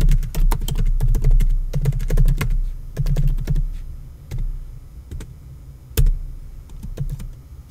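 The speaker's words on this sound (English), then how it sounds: "And I just type the character name." Fast, close clicking of keys on a computer keyboard while writing a screenplay in Beat software, bursts of rapid keystrokes with short pauses and a sharper isolated tap near the end, no voices.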